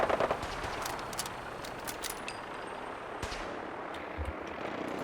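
Video game gunfire crackles in short, sharp bursts. Rapid shots and occasional heavier booms sit over a steady background wash of game noise.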